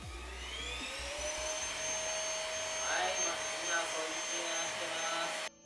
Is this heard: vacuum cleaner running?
yes